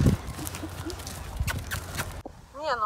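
At a stable, a horse walks past with a few irregular hoof clops, and a voice talks over them. The sound then drops away to quieter room tone.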